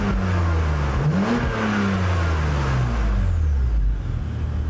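A powerful Audi TT or BMW Z4 sports car engine revs up and down nearby, its deep roar rising and falling in pitch over several seconds.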